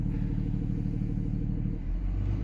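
Diesel truck engine with a VGT controller running steadily, a low rumbling idle that rises slightly in pitch near the end as revving begins, close and constant with no talking.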